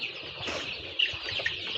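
Brown cock chickens on a poultry farm cluck and chirp briefly against a steady background murmur, fairly close and moderate in level.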